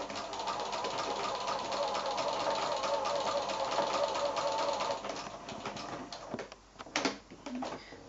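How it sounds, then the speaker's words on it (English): A sewing machine runs steadily through a straight stitch while appliqueing fabric for a quilt, a continuous close whirring for about five seconds before slowing and stopping with a few short bursts. "you can see I'm just doing that little straight stitch, and every so often it's got a little kick in its scallop and away it goes onto the fabric"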